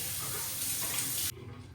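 Water runs steadily from a tap into a hotel bathroom sink during face washing, a broad hiss that cuts off abruptly near the end, leaving faint room tone.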